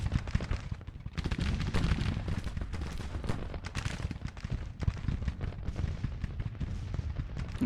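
A Civil War brigade fires in Grand Tactician, a dense crackle of musketry with deep thuds of cannon underneath, sustained and busy throughout, with no voices.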